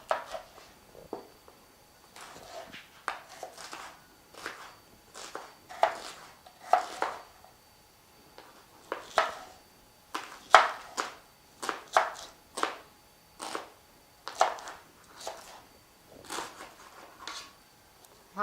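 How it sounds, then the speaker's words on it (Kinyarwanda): A knife chops an onion for a mango sesame salad, producing a long run of crisp, close taps on a board in uneven bursts, with quiet gaps between groups. "Dukate igitunguru."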